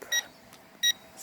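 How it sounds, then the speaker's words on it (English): A drone beeps twice, each a short, bright electronic tone about half a second apart. The beeps are moderately loud and close, with quiet background between them and no talking. "since this beeping might annoy my viewers"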